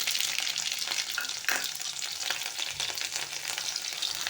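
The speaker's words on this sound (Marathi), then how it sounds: "ही राई तडतडली, आता मी हिरवी मिरची घालते।" Green chillies crackle and sizzle in hot oil with mustard seeds, a busy continuous frying hiss with a few sharper pops and stirring sounds.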